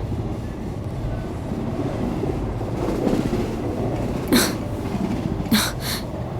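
Passenger train running toward Shirdi in a film scene, heard from inside a coach: a steady, dense rumble and rattle throughout, with a few brief sharp hissing bursts near the end.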